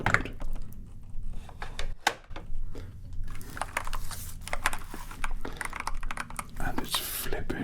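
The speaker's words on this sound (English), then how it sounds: "this is the cool keyboard" Rapid, crisp keystrokes on a pricey, stylish computer keyboard, close up, with irregular clacks and heavier thocks tumbling steadily along.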